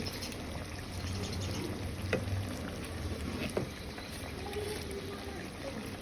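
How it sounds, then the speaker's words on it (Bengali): A fish head with spices and salt sautés in a pan, giving a low, soft sizzle with faint stirring scrapes and a couple of light knocks, fairly quiet throughout. "ভালো করে কষিয়ে নেবো"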